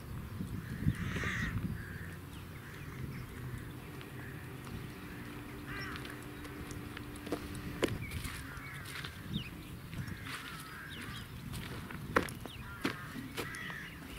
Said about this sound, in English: there's always rich pickings for crows, so they're feeding in the yard at the moment